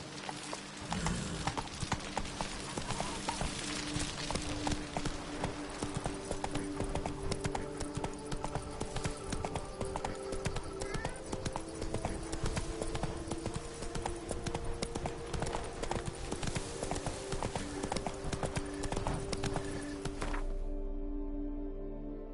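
Roach, the horse in The Witcher 3: Wild Hunt, gallops in a steady, continuous stream of close hoofbeats layered over in-game music.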